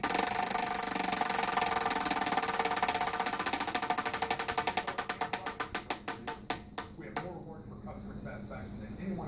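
A prize wheel spins with a dense rapid ratcheting clatter of pointer clicks that gradually slow into distinct ticks and finally stop, heard nearby in an indoor room.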